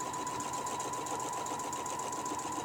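A Rhapsody Plus longarm quilting machine stitches steadily along a quilting ruler, its fast even needle hum continuous and close throughout.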